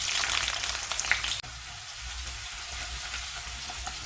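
Onions dropped into hot sesame oil with fenugreek and fennel seeds in a kadai for a Chettinad tapioca tamarind curry, a loud crackling sizzle that jumps and then settles into a steady close frying hiss.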